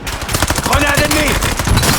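Gunfire in a war action film: a dense, loud burst of rapid shots with rattling impacts, mixed under a shouting voice and other battle noise.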